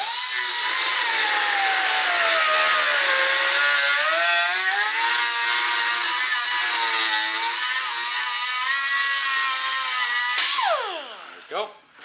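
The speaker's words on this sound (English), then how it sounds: "This thing is so rusted, so we're just going to cut it." A power tool cutting through a heavily rusted exhaust clamp on a truck, giving a loud, sustained high-pitched grinding whine that shifts pitch as it bites, then winds down and stops near the end.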